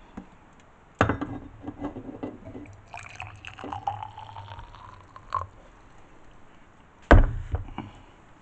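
Very hot water is poured into a container for growing potassium alum crystals, with a knock at the start, a rising gurgling fill for a few seconds, then a louder clunk near the end.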